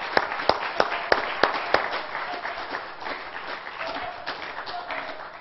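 A Pentecostal church congregation at a Sunday morning worship service claps hands in praise, several sharp loud claps at the start thinning into a steady murmur of scattered clapping and voices.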